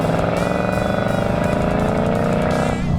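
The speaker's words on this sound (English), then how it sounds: "with an exhaust note like that" Loud, continuous V8 exhaust rumble from a 2019 Ford Mustang Bullitt, a steady deep drone with harmonic layering that holds for the whole span, close and alone with no talking.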